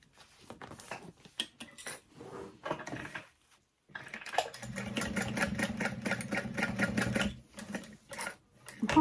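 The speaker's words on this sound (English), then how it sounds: "And for this one, I will sew it down." A sewing machine stitches down a handbag strap with a slide adjuster. A few short clattering bursts come first, then a longer steady run of rapid needle clatter, all close up with no talk.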